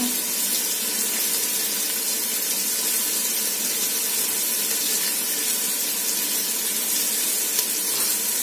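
Spring onions hitting a hot pan, a steady, even sizzle with a broad hiss that holds constant and fairly close throughout, with no talking.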